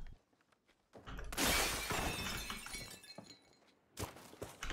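Glass shatters loudly in the video game Firestorm, a sudden crash near the start followed by a scatter of falling shards and debris that trails off, then a few later thuds.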